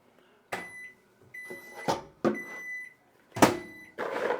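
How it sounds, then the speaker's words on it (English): A microwave oven is used to warm food: a series of high electronic beeps mixed with sharp clunks of the door and buttons, spaced over a few seconds, then a rougher hum at the end. "I'm going to take them and just put them and warm them up in the microwave."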